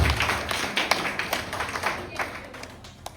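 An audience claps at a taekwondo club event: a burst of sharp, uneven hand claps of moderate loudness, tapering and thinning toward the end, with some speech in the room.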